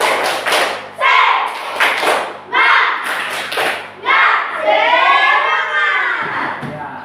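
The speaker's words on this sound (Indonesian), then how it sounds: "Tepuk semangat." A class of children performs the tepuk semangat clapping chant, rhythmic bursts of group claps and thumps alternating with loud chanted voices, ending in a long sung shout.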